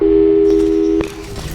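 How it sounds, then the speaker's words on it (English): A telephone busy signal from the video game Portal 2 drones as a steady, loud electronic tone, then cuts off about a second in, leaving a fainter tone behind. "Tell you what, let's give your parents a call right now."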